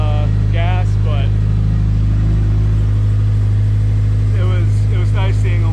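A car engine runs steadily while driving, a loud constant low hum and drone throughout, with someone talking over it at the start and again near the end.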